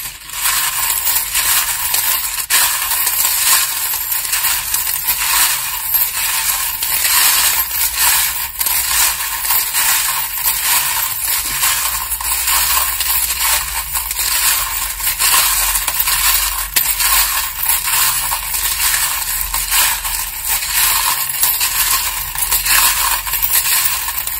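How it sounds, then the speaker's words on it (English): Metal charms jingle and clink continuously while tarot cards are shuffled, a dense, bright rattling that stays loud and close from start to finish. "if you don't like the sound of the charms, please turn down the volume now"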